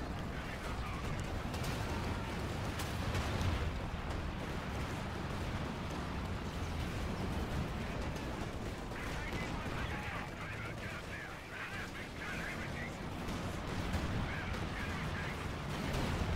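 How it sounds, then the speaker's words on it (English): Tank cannon fire from a Soviet IS-2 heavy tank in Company of Heroes 2 during a 4v4 battle: dense continuous battle noise with repeated gunfire bursts, loud and sustained throughout. "That IS-2 is shooting for me."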